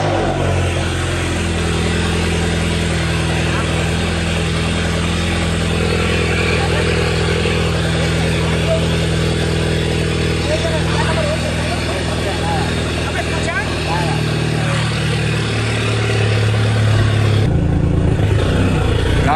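A cold Nissan 350Z engine idles high with a steady, loud, rough drone and slight pitch shifts, close to the car, with voices talking over the engine throughout.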